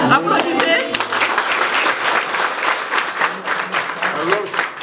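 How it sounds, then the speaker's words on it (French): An audience of baccalaureate candidates in a school exam room bursts into loud, continuous applause, with dense clapping that runs throughout and a voice briefly heard at the start. "Applaudissez."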